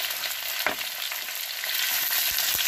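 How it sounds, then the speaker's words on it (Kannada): Green chillies and onion frying in hot oil with mustard seeds, a steady close sizzle with a few sharp pops and stirring clicks, getting slightly louder toward the end, with no talking. "ಈಗ ನಾನು ಹಸಿರು ಮೆಣಸಿನ್ಕಾಯಿ ಮತ್ತು ಈರುಳ್ಳಿನ ಹಾಕ್ತಾ ಇದ್ದೀನಿ."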